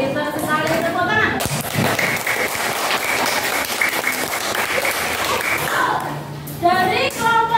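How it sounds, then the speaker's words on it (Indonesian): A class of students claps together, a loud dense burst of hand clapping sustained for several seconds after a science lesson on freezing milk into ice cream, with brief voices at the start and end. "Ya, pintar sekali, tepuk tangan."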